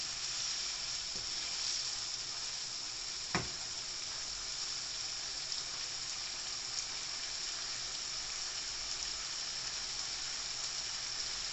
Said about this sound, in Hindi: मैं इधर एक दफ़ा चमचा और हिला देता हूँ